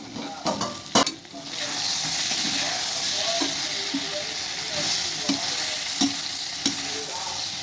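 Sliced brinjal fries in a pan with a steady, close hiss of sizzling oil while a spatula scrapes and taps the metal at intervals as the vegetable is stirred.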